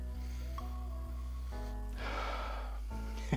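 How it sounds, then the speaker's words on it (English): Someone sniffs a fragrance, giving a couple of short nasal inhales against a steady low background hum, with no talking. "So let's sniff it out"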